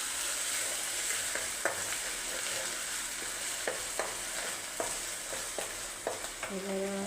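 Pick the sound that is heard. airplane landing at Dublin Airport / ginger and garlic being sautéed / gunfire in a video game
ginger and garlic being sautéed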